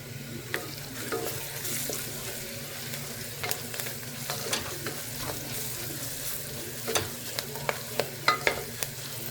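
Fried onions sizzle in hot oil in a pan after turmeric is added for chicken curry, a steady frying hiss broken by scraping stirs and clinks of a spoon, louder knocks toward the end.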